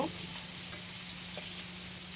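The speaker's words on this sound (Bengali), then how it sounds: "পেঁয়াজগুলো আমি ভালো করে নেড়ে দেব" Chopped onions and green chillies sizzle steadily in hot mustard oil in a pan, a continuous close frying hiss with light stirring.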